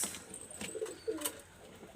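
Red-necked pigeons coo in short, soft bursts at close range over faint background noise.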